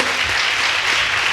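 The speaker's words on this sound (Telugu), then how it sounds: "ఇప్పుడు చేతులు ఉన్న వాళ్ళు చప్పట్లు కొట్టండి" A congregation at a Christian worship gathering claps together in a short, dense burst of applause that stays loud and even from start to finish.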